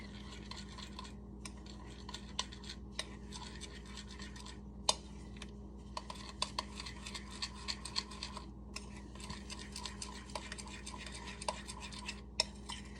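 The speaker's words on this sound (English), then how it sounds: "I stir it until everything's put together, basically" A spoon stirs flaked food through a little liquid in a pot for lunch, giving a faint, steady scraping and swishing with small clinks against the pot's sides. No one talks.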